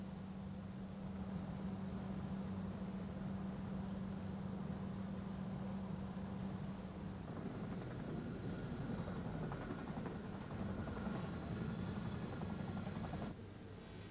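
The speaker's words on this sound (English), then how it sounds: "the only Chinook helicopter to be saved from the Atlantic conveyor" A Chinook helicopter, the only one saved from the Atlantic Conveyor, flies with a steady loud rotor roar and low droning hum throughout, the tone shifting partway through before a sudden drop near the end.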